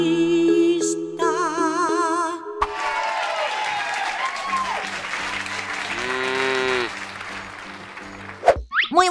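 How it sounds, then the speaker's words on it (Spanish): Animated-style applause greets the number 7 character in a children's counting and colours cartoon. Dense clapping swells between bright synthetic tones and musical chimes, with short cartoon sound effects at the start and end. "Démosle un fuerte aplauso a mi amigo, el número 7."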